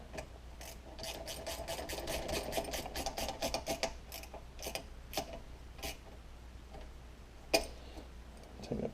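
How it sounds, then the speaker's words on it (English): A 10mm combination wrench tightens bolts on a Briggs and Stratton engine's gas tank, giving a fast run of crisp ratcheting ticks followed by sparser, separated clicks and one sharper knock, heard close with no talking. "I'll start tightening those up. Break out my 10mm combo wrench."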